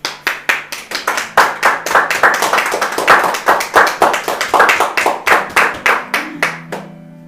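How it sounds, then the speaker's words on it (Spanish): Rhythmic unison clapping rings out in a church, with sharp, evenly spaced hand claps keeping a steady beat for about seven seconds before stopping. "aplauso a Dios"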